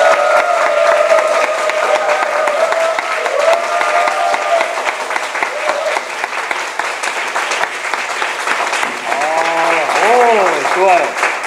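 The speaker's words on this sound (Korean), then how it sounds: "박수로 격려하겠습니다." Sustained applause from a crowd filling a church room, dense and steady, with a few voices and some musical tones sounding through it.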